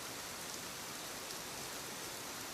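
Steady rain falls in a soft, even hiss, constant and unbroken, with no voices.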